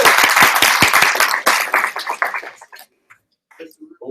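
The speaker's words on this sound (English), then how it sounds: "Just give a round of applause." People at an NTSU union meeting give a short round of applause after a vote. The close, crisp clapping lasts about two and a half seconds and trails off, then a few quiet voices follow.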